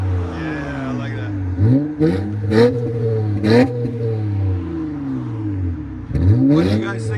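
A 2014 Honda Accord Coupe with a 3.5L V6 and muffler delete revs in a few sharp, deep throaty bursts between steady idle, close and loud, with people talking over parts of it.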